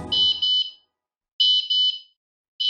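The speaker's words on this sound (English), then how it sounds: "Or you can activate the alarm manually." An Airbolt smart lock's alarm sounds as loud, shrill electronic beeps in pairs of short bursts, pausing between each pair and repeating, with a brief low rumble at the very start.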